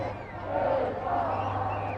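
Upland football supporters at a final against Cathedral chant a song, a broad massed crowd sound swelling steadily under a constant low hum, sustained for the whole stretch.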